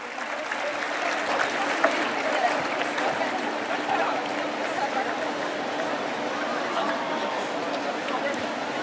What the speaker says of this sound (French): Vous entendez la foule ici rassemblée